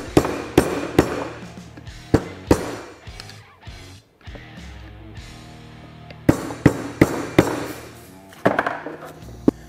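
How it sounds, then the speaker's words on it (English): Metal snap rings on a Polaris Ranger XP1000 rear steering knuckle are tapped into their groove with a flathead screwdriver. Sharp, close metallic taps come in irregular clusters, loud against a quiet background, with a brief lull midway. "You can just take a flathead screwdriver and just kind of tap them down until they make it into the groove."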